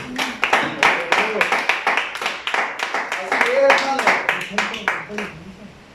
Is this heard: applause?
yes